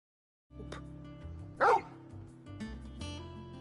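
A dog in the video game Final Fantasy XVI barks once sharply and loudly near the middle, after a low, steady rumble of game ambience, with a few softer yips and whines around it.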